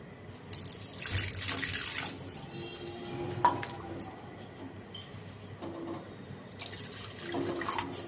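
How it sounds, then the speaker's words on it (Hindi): About a cup of water is poured into a pan of fried yogurt and spices while making a dhaba-style bhindi gravy. The pour is a steady, moderately close splashing rush that swells and fades over several seconds. "यहाँ पे हमने 1 कप के करीब पानी डाल दिए हैं।"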